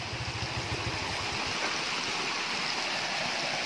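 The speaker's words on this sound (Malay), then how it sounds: "Dengar tu air tu" A waterfall at night along the old Gombak–Karak road rushes in a steady, loud, close roar that fills the whole clip, with a faint low hum underneath at the start.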